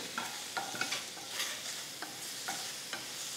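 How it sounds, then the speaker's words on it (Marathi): Coconut pieces sauté in a dry pan with no added oil, a soft steady sizzle broken by several sharp scraping stirs of a spoon, close and fairly quiet, with no talking. "आपण हे छान परतून घेऊ."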